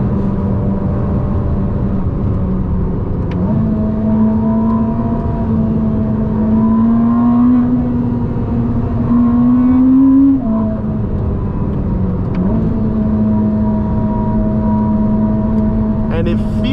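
A Ferrari SF90 hybrid supercar accelerates on the road, its engine drone climbing steadily in pitch through several gears with brief dips at each shift, loud and close as heard from inside the cabin.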